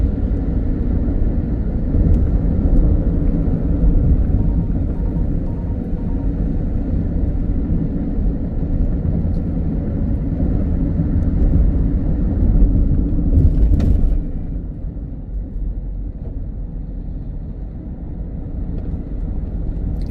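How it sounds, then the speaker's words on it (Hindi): Steady road rumble from inside a vehicle on an Indian highway near villages, with local traffic and trucks, a continuous loud low drone that eases slightly toward the end. "इस हाईवे पे ना लोकल भी ट्रैफिक है, ट्रक भी है, सारा कुछ है"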